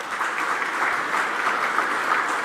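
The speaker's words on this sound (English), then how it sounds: "Give them a big round of applause, Pace Development Group." Steady audience applause at a racing awards night, even and continuous clapping from a large crowd throughout, with no speech over it.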